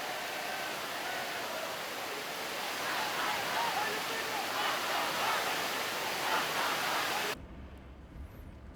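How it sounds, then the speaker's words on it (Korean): A fast-flowing waterfall in Jamaica makes a dense, steady rushing roar close by, which cuts off abruptly near the end. "폭포의 물살이 빠르고 시원해서 여행객들의 사랑을 받는 이곳"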